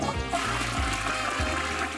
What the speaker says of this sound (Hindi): मैं करने वाली हूँ इसे टॉयलेट में फ्लश।